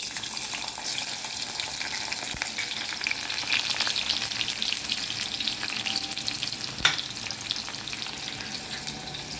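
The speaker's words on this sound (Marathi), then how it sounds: "आता कांदे फोडणीला घालायचे." Chopped onions fry in hot tempering oil for a Maharashtrian brinjal and pavta curry, giving a loud, continuous sizzle with occasional sharp crackles and one stirring clank, and no voices.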